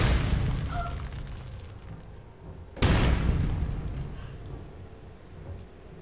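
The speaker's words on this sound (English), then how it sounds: "That sounds like the Hulk" Hulk smashes in the video game Marvel's Avengers: one sudden heavy boom lands mid-clip over a low rumbling game soundscape, then decays into a lingering roar.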